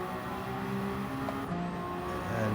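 Race car engine in Gran Turismo 7, a continuous loud revving drone with shifting pitch tones as the car drives toward the line, no talk over it.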